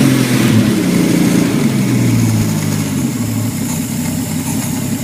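A freshly overhauled carburettor-fed engine with a secondary throat runs and idles on the bench, a loud, steady, close rumble that holds evenly throughout with no pauses.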